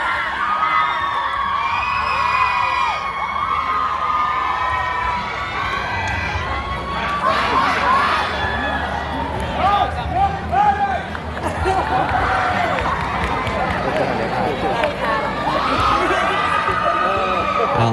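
A cheering squad roars and shouts at a Lao traditional dance competition among university students, a loud sustained crowd with whoops and excited voices rising and falling throughout, talk mixed in.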